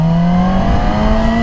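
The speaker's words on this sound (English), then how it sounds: "So I guess this applies to all 600s that are inline fours," Yamaha R6 600cc inline-four sport motorcycle engine holding a loud, high, steady rev with a slowly rising whine, close up and without talk.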